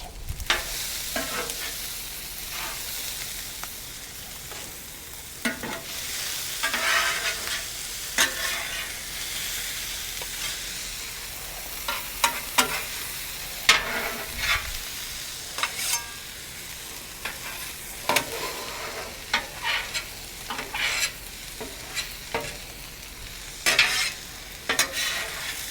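Chicken fried rice with soy sauce being stirred on a Weber Slate flat-top griddle, a constant hot sizzle broken by frequent metallic spatula scrapes and clacks against the steel surface, close and busy, with no talking.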